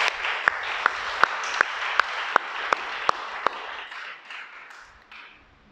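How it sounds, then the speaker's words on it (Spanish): A crowd at a religious teaching gathering applauds, a moderate wash of clapping with a few sharp near claps in rhythm, fading out after about four seconds. "vamos a darle un aplauso al Creador"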